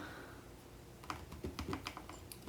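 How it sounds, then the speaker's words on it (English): Typing on an Anker Slim Glaze Folio keyboard case for an iPad Mini: a quick, uneven run of light, close plastic key clicks that starts after a quiet first second and plays on its own. "gives you the ability to use it in a typing mode"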